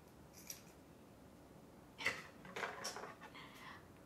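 Scissors trimming the arm of a clay pot scarecrow, a few quiet snips and crisp cuts close by, after a near-silent pause, with no talking.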